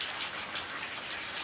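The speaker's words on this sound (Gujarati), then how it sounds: "જો મિત્રો થોડી વરસાદ આવી ગયો છે." Light rain falls outdoors as a steady, even hiss of drops with no voices, constant in level throughout the short moment.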